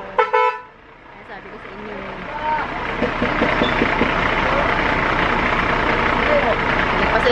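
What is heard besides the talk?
truck passing, honking and engine idling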